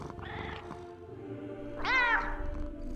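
A cat meows twice, a short cry early on and a louder, rising meow near the end, heard alone against a low steady hum.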